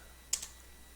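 Two quick, faint keystrokes click on a computer keyboard against a quiet background.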